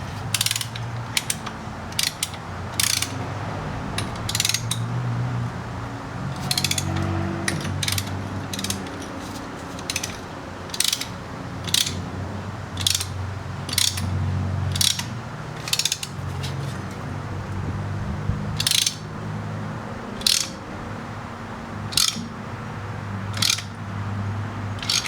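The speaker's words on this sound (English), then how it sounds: "take my Lang piston spring compressor, not piston, but caliper piston compressor tool" A Lang caliper piston compressor tool is worked on the front brakes of a 2009 Chevy Silverado 1500 with repeated sharp ratcheting clicks in short bursts, steady and close, with no speech.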